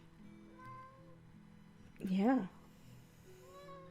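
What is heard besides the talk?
cat meowing during voiceover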